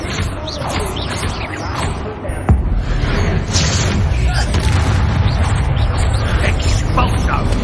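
Expulso spell explosion in the Hogwarts Legacy video game, a loud booming blast around the middle followed by sustained rumbling battle noise and crackling debris.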